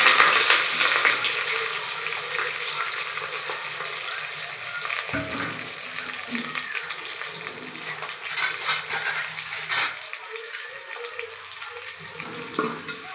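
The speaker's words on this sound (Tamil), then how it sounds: "நல்லா பொன்னிறமாகிற வரைக்கும் நல்லா வதக்கி விட்டுக்கலாம்." Chopped onions and curry leaves fry in a pan with a loud, close, continuous sizzle, broken by occasional scraping stirs and clinks against the pan, and no talking over it.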